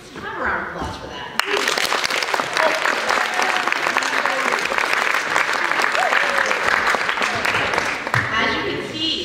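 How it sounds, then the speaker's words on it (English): Sustained applause breaks out suddenly from an audience at a Poetry Out Loud event, dense and even for several seconds before thinning, with voices heard faintly under the clapping. "Let's have a round of applause for that."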